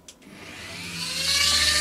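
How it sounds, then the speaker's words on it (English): Dremel rotary tool spinning up to trim the coupling mounting plate on a Parkside Dundas 21T model hopper wagon; a thin rising whine builds steadily in pitch and loudness over under two seconds, close and alone. "so I'll get the Dremel going again."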